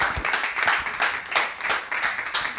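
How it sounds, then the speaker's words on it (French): A small audience claps at an end-of-internship certificate ceremony, a fairly sparse, uneven patter of individual hand claps rising and falling over a few seconds. "Espérance Anaba, sous vos acclamations, s'il vous plaît."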